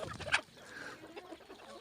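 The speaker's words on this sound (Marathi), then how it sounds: "कोंबड्या खात आहेत" Farm chickens feeding on vegetables give a single brief cluck early on, then only faint scratching and rustling remain at low volume.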